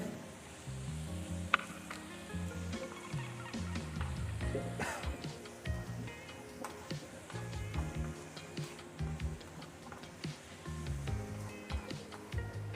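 Tomatoes with turmeric cooking in a pan, a steady sizzle with scattered clinks and stirring scrapes running throughout at close range.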